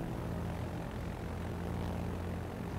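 A squadron of aircraft drones in the naval video game World of Warships, a steady, dense propeller-engine roar that holds constant throughout with no talk.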